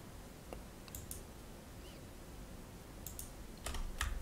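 Sparse computer mouse clicks sound during 3D modeling in Maya 2018, a few quiet isolated taps and a faster cluster near the end over a low steady room hiss.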